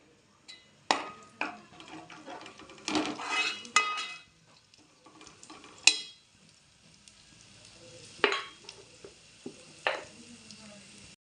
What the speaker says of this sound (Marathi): आता आपलं तेल तापलेलं आहे त्याच्यात आपण जिरं टाकून घेणार आहोत